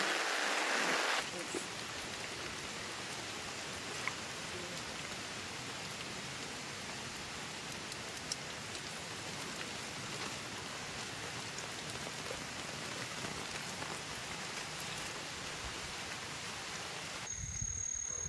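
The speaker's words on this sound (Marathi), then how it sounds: "अजून थोडा थोडा रिमझिम पडतंय पाऊस" Light drizzle of early-monsoon rain falls outdoors at night during crab fishing, a steady soft patter of drops hissing evenly for the whole stretch.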